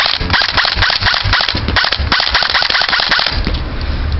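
An airsoft MP5 fires in semi-automatic mode, a rapid, dense string of close, sharp snapping shots running steadily for about four seconds.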